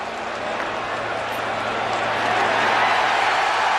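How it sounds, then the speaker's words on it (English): Football crowd in a stadium end zone during a 2007 USC vs. Nebraska game, a steady broad roar of applause and cheering that swells slightly louder toward the end, with no distinct voices standing out. "That crowd in that end zone is applauding."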